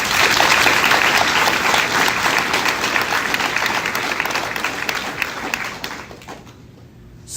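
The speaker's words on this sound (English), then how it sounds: "Can we give a round of applause to all the staff?" Sustained audience applause fills a school hall at a sixth-grade farewell ceremony for the staff, loud and dense at first, then thinning and fading out near the end.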